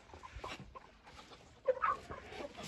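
Mini meat-breed fawn white-tailed hens dust bathing in a mix of sand, ash and Ectosan powder give soft, scattered clucks at close range, then a louder burst of clucking near the end.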